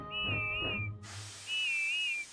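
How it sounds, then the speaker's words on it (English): Funny warbling whistle of a cartoon steam engine from Thomas & Friends, sounded twice as a wavering tone with a burst of steam hiss between, with no voices. "Then at last she heard Whiff's funny whistle."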